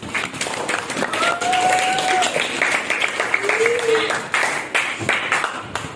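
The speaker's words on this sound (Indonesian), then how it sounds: "Tepuk tangan untuk kita semuanya" A classroom of schoolchildren applauds together at the end of a science lesson on building series and parallel electric circuits, a dense patter of clapping running throughout under overlapping voices.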